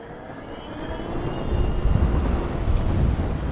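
Riding a homemade 20 hp mini electric motorcycle at about 30 mph, steady buffeting wind noise roars across the microphone, swelling louder partway through, with no talk.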